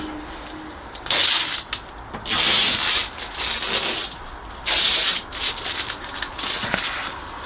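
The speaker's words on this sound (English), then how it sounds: "go ahead and start peeling off all the masking tape" Masking tape being peeled off the plastic lens of a Lexus RX headlight after restoration, giving several long, loud tearing rips separated by quieter rubbing and crinkling, close up with no talking.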